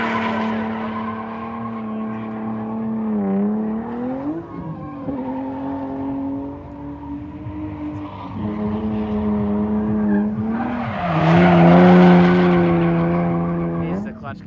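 Drift car driven hard, its engine revving up and down in long sustained pulls with sharp clutch-kick surges and squealing tires, loud and close throughout.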